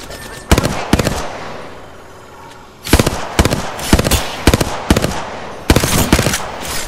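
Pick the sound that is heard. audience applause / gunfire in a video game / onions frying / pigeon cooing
gunfire in a video game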